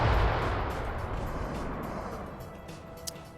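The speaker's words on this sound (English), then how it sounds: "More artillery coming in on this tree line." Distant artillery fire rumbles in a large-scale PvP military shooter match, a loud low boom at the start fading into a sustained rolling rumble, with a sharp crack near the end.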